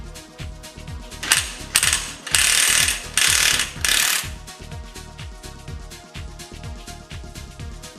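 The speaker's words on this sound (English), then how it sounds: "Now, using the special nut puller, loosen the primary gear nut." Special nut puller working loose the primary gear nut on a Pulsar 200 NS motorcycle engine, a rapid run of loud ratcheting clicks with several louder harsh bursts in the middle, close and without talk.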